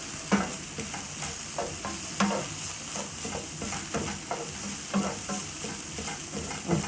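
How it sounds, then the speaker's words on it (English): Food sizzling and frying in a pan while being stirred, with a soft continuous hiss broken by regular scraping strokes of the utensil, close and moderately quiet, with no voices. "Just going to give this a stir, guys."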